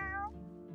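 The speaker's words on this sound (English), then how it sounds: "Meow. Meow." A single brief, soft cat meow from Wylde Flowers, high and tonal with a falling pitch, heard alone.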